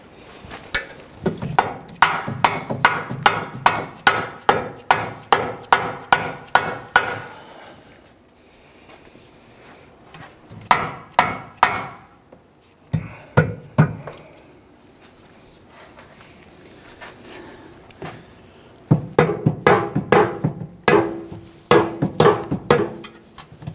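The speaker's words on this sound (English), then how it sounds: "we'll use a mallet or a dead blow hammer. We can go ahead and tap this in" Bursts of rapid, regular tapping from a dead blow hammer driving a bushing into a 1999-2004 Jeep Grand Cherokee rear upper ball joint mount, several strokes per second, separated by short pauses with a few isolated knocks between.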